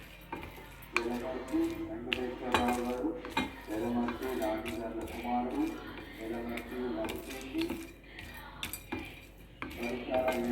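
Dry ginger and nutmeg powder are roasted in a pan, with repeated metallic scraping and clinking of a spoon against the pan in an irregular stirring rhythm, close and moderately loud.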